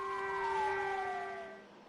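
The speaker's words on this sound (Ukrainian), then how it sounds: "А у найближчій до Тайваню провінції навіть залунали сирени повітряної тривоги." Air raid sirens sound in a Chinese province near Taiwan, a loud sustained wailing tone that slowly slides down and fades over a couple of seconds.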